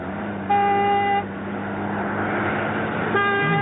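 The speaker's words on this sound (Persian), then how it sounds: "جیبی که پشت سرمونه مرتب داره بوق میزنه" A jeep horn honks repeatedly from behind a car on a road, with two loud sustained toots separated by a steady engine and road rumble.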